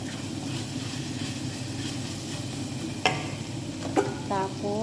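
Tuyo dried fish frying in a pan, a steady close sizzle and crackle continuing throughout, with a couple of sharp clinks of a utensil against the pan near the end.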